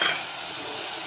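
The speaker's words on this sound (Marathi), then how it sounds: "आणि आपल्याला आता हे परतून घ्यायचं." Garam masala sautéing in a hot pan for onion-coconut paste, a steady close sizzle and crackle of frying spices, slightly louder at the start then an even hiss with no talking.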